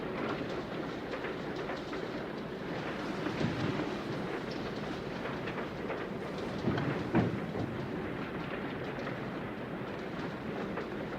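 Steady rumble of a train rolling along the rails, with faint rhythmic clatter and a couple of louder knocks near the middle, heard from inside the carriage without talk.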